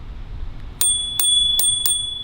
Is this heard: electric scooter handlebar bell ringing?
yes